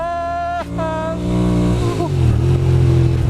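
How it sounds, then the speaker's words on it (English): A Ducati Monster 600 motorcycle with a Termignoni exhaust revs loudly with a deep, throaty note, rising in pitch then settling into a rumbling idle. "is loud, but that's down to its Termagoni exhaust system."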